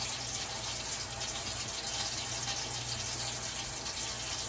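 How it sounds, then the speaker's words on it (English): Steady broadband rush of water pouring from a faucet into a sink during handwashing, continuous and fairly loud with no talking. "I want to use that clean paper towel to turn the faucet off"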